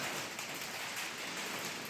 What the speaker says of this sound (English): it rained enough to wet the ground and also the truck